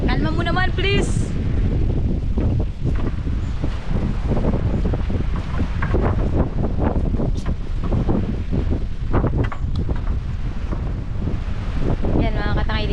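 Strong wind blows steadily across the microphone outdoors at a work camp, a loud, constant roar with gusty buffeting throughout.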